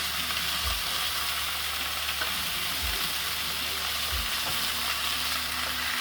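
Steaks cooked well done sizzle and fry steadily in a pan, a loud continuous crackle filling the whole stretch with a few brief low thumps and no talking.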